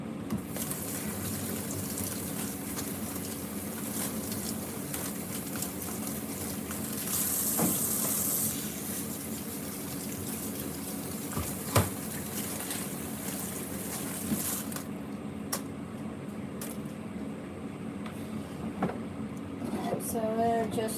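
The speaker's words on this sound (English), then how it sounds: "Rinse this one again as well." Tap water runs continuously in a kitchen sink while food is rinsed, making a steady splashing hiss with brief louder gushes and occasional clinks.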